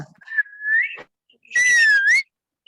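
A person whistles two rising and falling tones, imitating a whistle: a short bright note, a pause, then a longer, louder warbling blast.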